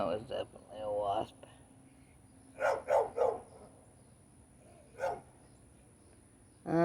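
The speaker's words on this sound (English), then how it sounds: "I'm tired of the barking." A dog barks several times outdoors in short separated bursts, mixed with a person talking nearby.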